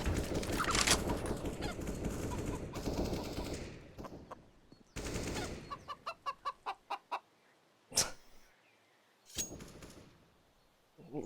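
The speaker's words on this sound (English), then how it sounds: "Little chicken making as much noise as possible." A chicken clucking during a Counter-Strike match on the Inferno map, a quick series of short clucks amid loud bursts of gunfire and game noise.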